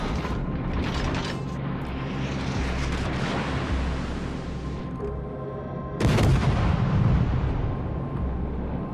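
Heavy warship guns in World of Warships: Legends fire at a target as loud, deep booms with rumbling roar, and a fresh powerful blast breaks in near the end.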